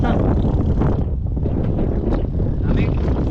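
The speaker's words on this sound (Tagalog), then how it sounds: "Talagang presko ang hangin dito mga kabisig." Strong outdoor wind at Bungsod buffets the microphone in a loud, continuous rumbling roar, rising and easing slightly over a few seconds.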